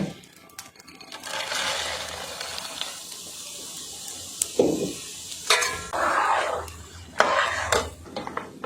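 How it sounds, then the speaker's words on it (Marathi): Almond slices sizzle in hot ghee for a dink laddu, a broadband frying hiss with intermittent clatters of a utensil against the pan, close and fairly steady. "आता मी बदामाचे काप तळून घेणार आहे."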